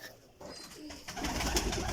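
Pigeons kept for flying coo in a loft, a low burbling rising to a louder, denser murmur in the last second of the short stretch.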